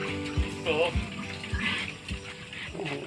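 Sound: water filling an animal enclosure

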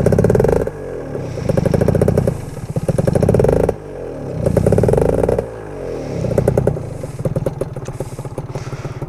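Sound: Gilera Runner FXR 180 two-stroke scooter engine revving

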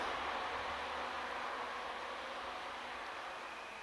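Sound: train departing on the Danube Valley railway

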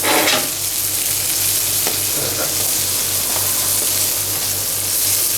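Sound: jumbo shrimp sizzling in butter in a hot clay pot

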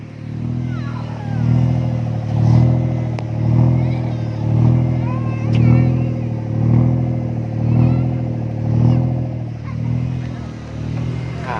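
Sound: car engine revving

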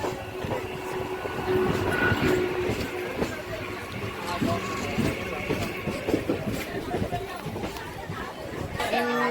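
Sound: MEMU train running

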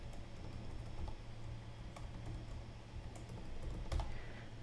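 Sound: typing a password on a computer keyboard

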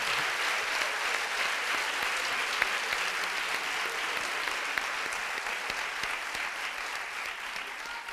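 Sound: applause

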